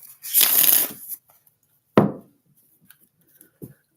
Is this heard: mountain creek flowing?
no